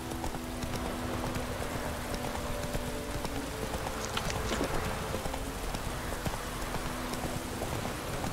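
Hoofbeats of the horse Roach galloping in The Witcher 3 video game, a steady rapid clip-clop that runs throughout, mixed with rain-like ambience and faint game tones, with no talking.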